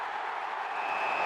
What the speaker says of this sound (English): The bounce of the footy, roar of the crowd.